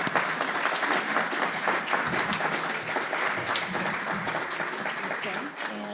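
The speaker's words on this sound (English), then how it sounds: "Just a round of applause for our panelists" An audience at a membership meeting gives a sustained round of applause for the panelists, a dense and even wash of clapping that carries steadily to the end.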